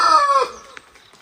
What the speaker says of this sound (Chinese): 大公鸡还在打鸣呢